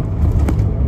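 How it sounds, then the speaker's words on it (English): A truck passes nearby, a brief low rumbling whoosh that rises and fades within about a second, no speech. "There's that truck going by."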